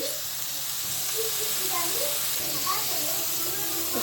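Meat and onions fry in oil in a pan for gözleme filling, a steady broadband sizzle and hiss with a spoken voice over it.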